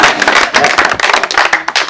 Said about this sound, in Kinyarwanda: Mumuha amashyi.